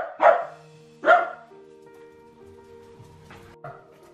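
A dog next door barks twice in quick succession, then gives a softer yip a few seconds later. The barks are sharp and loud against a quiet background.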